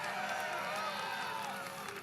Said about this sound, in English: Well, don't clap too hard.